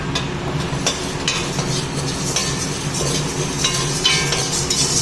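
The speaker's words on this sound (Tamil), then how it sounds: "துவரம்பருப்பு வறுக்க போகிறோம்." Toor dal dry-roasts in a pan as a continuous gritty rattle, with irregular scraping clatters from stirring the lentils against the metal.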